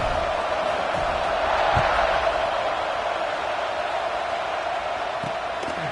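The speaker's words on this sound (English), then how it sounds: "this crowd is buzzing after that last score" Football stadium crowd in a video game buzzing after an extra point, a steady, dense roar of cheering and chatter that holds at an even level throughout, with faint thumps.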